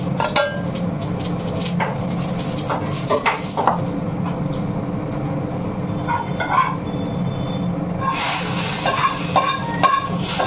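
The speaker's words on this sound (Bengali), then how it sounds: "এবার এই ডালটা ফোড়ন দেবো" Tempering thin dal with fenugreek and mustard seeds in a pan: steady loud sizzling with clinking of a metal spoon against the pan and scraping stirs, close up throughout.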